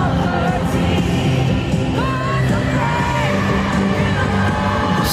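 A dense stadium crowd at a concert in London yells, whoops and cheers continuously, a loud sustained roar with scattered shrill screams rising above it.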